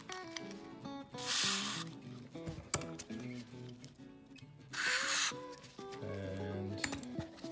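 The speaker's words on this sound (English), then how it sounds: "All right, so spray these." Two bursts of aerosol spray hissing onto old padlocks, each about a second long, close and loud, separated by clicks and handling noises of the metal locks.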